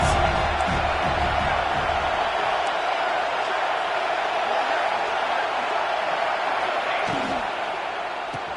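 Steady roar of a stadium crowd cheering in a PS5 American football video game, a dense continuous wash of noise holding level for the whole stretch, with faint commentary-like voices mixed beneath.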